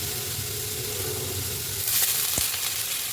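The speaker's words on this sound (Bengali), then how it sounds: "শাক ভাজাটাও বসিয়ে দিলাম।" Leafy greens fry in a pan with a steady, close sizzle and hiss throughout. A brief stir or scrape brightens the crackle partway through, and no one speaks.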